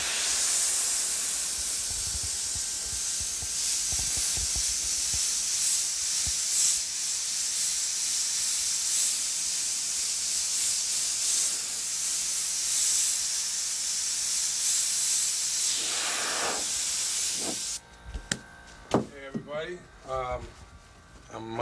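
Steady airbrush hiss spraying paint onto a portrait runs continuously for about eighteen seconds at close range, then cuts off, followed by a few scattered clicks and short chirpy sounds.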